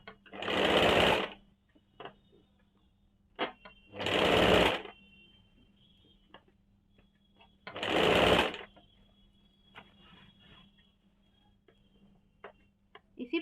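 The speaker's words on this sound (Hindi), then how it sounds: "इसी प्रकार से घिसते हुए पूरे में हम लोग सिलाई चला लेंगे, पूरा गोलाई में" Sewing machine stitching around the curved sleeve of a kurti, running in three loud bursts of about a second each with pauses between, light ticks and clicks filling the gaps.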